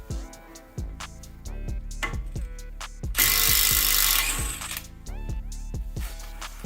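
A power tool drives out a T45 Torx bolt holding the brake rotor on a 2016 Tesla Model X 90D, with repeated sharp close impact rattles in quick bursts and a louder sustained whir in the middle.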